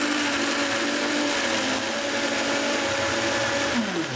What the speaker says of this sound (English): I'm just going to throw these straight into the blender too, along with all the liquid. And I'm just going to whiz those up